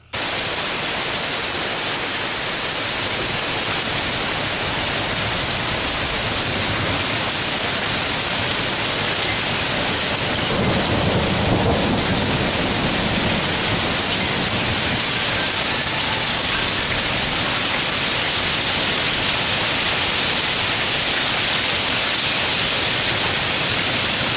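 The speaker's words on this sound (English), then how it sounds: "we'll show you an example of a hailstorm we had last month" A heavy hailstorm mixed with rain pounds steadily on a farm, a dense, loud, unbroken roar that lasts the whole stretch, with no voices.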